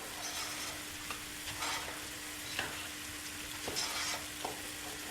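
Boiled rice for gimbap gets mixed in a pot, a series of soft scraping and clinking spoon strokes in an irregular rhythm over a low steady hiss, fairly quiet and close, no talking.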